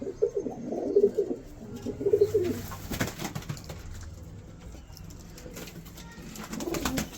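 Pigeons kept by a fancier coo in soft, repeated low phrases that rise and fall in short bursts, close by, over a background of light rustling and faint bird chirps.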